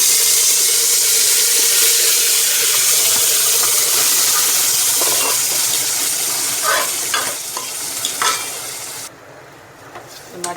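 Marinated mutton hits hot oil in a pan, setting off a loud, steady sizzle and frying hiss that runs nearly throughout, with a few stirring scrapes near the end before it cuts off abruptly.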